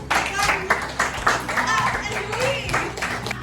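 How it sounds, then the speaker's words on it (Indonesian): Several people in a classroom clap in short bursts while voices talk and chatter over the sound, close and fairly loud. "tepuk tangan untuk"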